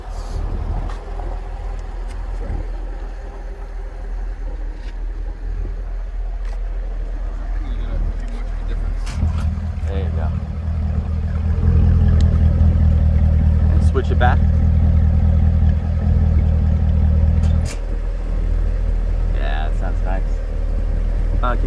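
A 2011 Corvette Grand Sport engine idles low and steady, then its deep dual-mode exhaust rumble swells louder for several seconds before easing back, with occasional faint talk nearby.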